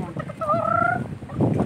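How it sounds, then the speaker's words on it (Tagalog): Native chickens on an ostrich farm give a short run of clucks and calls, fairly close, with a brief two-toned call in the middle and a denser burst of clucking toward the end. "Mga manok-manok. Ayan, mga native na manok."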